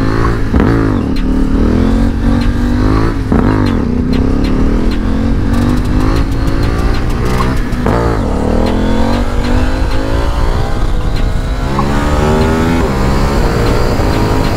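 A KTM 890 Duke motorcycle revs hard and accelerates, its engine climbing through gears in repeated rising sweeps, loud and close throughout with brief dips between shifts.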